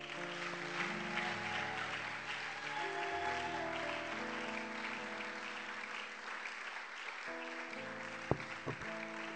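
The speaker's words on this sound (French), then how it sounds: "Est-ce que tu peux mieux acclamer le Seigneur?" A church congregation applauds and acclaims the Lord during a worship service, steady dense clapping running throughout with tonal music underneath and a few sharp louder claps near the end.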